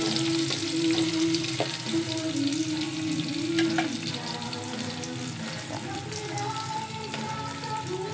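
Ginger frying in a pan for tinola, a steady close sizzle with faint clinks, running alone without talk.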